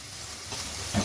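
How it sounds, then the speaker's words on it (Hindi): Two small ground onions frying in a kadhai give a soft, steady sizzle with a faint stir near the end, close and moderately quiet, no talking. "तो अब इनको मैं अच्छे से फ्राई करूंगी"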